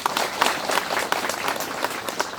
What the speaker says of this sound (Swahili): Naomba tujipigie makofi kwenye hilo.